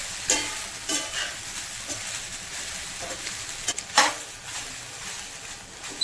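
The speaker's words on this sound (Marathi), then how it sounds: "व्यवस्थित मिक्स करून घ्यायचं आहे" A spoon stirs sabudana khichdi with peanuts and potato in a pan over medium heat: soft repeated scrapes and light sizzling, close, with occasional sharper knocks against the pan.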